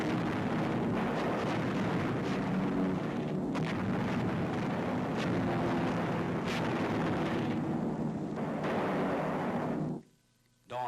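Wartime newsreel soundtrack of incendiaries burning out Nazi installations: a dense, loud roar of blasts and rumbling fire with scattered sharp cracks, dropping briefly to near silence at the end.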